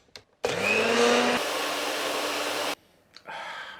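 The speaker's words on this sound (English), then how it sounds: "Grind it all up really well." An electric spice grinder whirs loud and steady for about two seconds, grinding sea salt with dried garlic, rosemary, smoked paprika and lemon zest, then cuts off, with a short quieter burst afterward.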